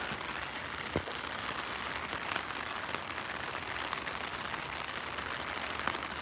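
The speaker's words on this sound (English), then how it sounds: "it's raining really hard now" Heavy rain pours steadily on surfaces in a New York City rainstorm, a dense continuous hiss with occasional louder drops and splashes, no voices over it.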